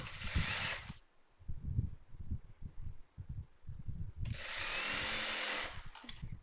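A sewing machine stitching the hem of an inskirt runs in two sustained bursts, near and steady, separated by a pause filled with softer handling noises.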